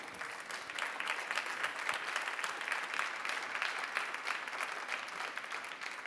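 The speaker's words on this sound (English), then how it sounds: "I'd like you all to just give everybody a big round of applause." Audience at a 2015 conference day-three opening session applauds steadily, a soft, even patter of many hands heard from some distance, with no speech over it.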